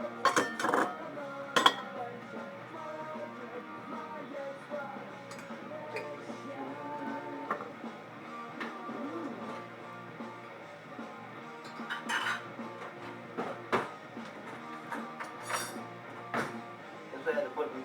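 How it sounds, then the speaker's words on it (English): Dishes and cutlery clink and clatter as they are put away in a kitchen, with scattered sharp chinks and knocks over a steady background. "Guess I had to put the dishes away."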